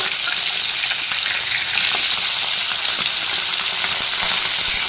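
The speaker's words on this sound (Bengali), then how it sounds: "আমি এবার মাছগুলো একে একে এই তেলের মধ্যে দিয়ে ভেজে নেব।" Fish sizzle and spatter steadily in hot mustard oil in a pan, a loud, continuous frying hiss with occasional crackles and no talking.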